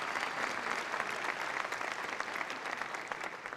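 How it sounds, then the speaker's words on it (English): Audience applause fills a university commencement ceremony, steady and sustained clapping from a large crowd throughout, with no speech over it. "Let's give them a round of applause."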